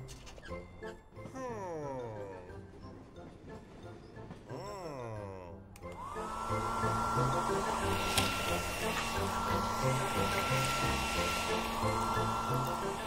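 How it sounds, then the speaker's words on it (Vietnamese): A hair dryer blows in an animated children's cartoon about a train delivering snow to an ice rink; voices come first, then a loud, steady whirring drone with a high whine sets in and holds to the end. "Có lẽ chúng ta nên thử dùng máy sấy tóc."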